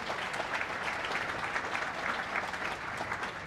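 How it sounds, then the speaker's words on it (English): An audience at a lecture on genocide claps steadily in a dense, even applause lasting a few seconds, moderately quiet as if heard from the room's front. "you can applaud him because he has been very helpful"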